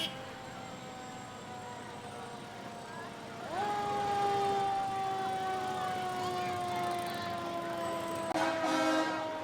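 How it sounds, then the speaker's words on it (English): Fire truck sirens wailing at the end of a Rotary Club International Day parade in Port Huron, a steady rising and falling howl that swells louder midway and carries on, fairly close. "behind that, we hear those wail of sirens"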